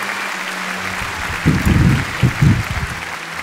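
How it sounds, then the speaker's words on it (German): Applause for table tennis player Timo Boll after a match, a short burst of clapping rising at mid-clip in two uneven waves over a steady background hum, fairly near and moderately loud. "gib nochmal einen riesen Applaus"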